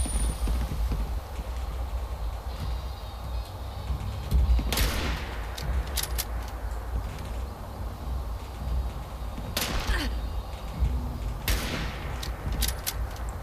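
Gunfire in Fallout 76, a handful of sharp cracks spaced irregularly over a steady low game ambience, loud and close, with no talk.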